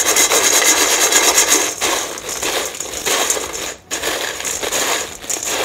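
Crispy homemade French fries, sprinkled with salt and red chilli powder, tossed and stirred in a pan, giving a loud continuous dry rustling and scraping with brief gaps, no talk.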